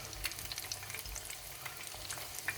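Steady crackling sizzle of cauliflower frying in hot oil, with scattered pops and a faint stirring scrape.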